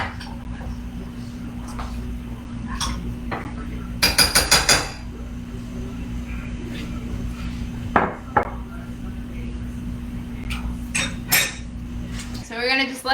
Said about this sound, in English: Just stirring it until the peanut butter gets nice and dissolved in here.